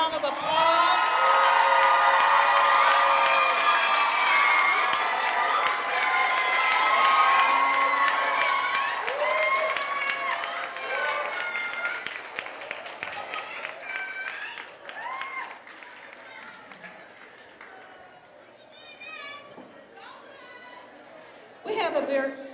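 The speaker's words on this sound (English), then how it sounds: "Class of 2016, let's give ourselves another round of applause" A graduating class and audience at a school graduation ceremony break into loud applause with cheering and shrill shouts, the crowd noise fading gradually into scattered chatter before a short final burst.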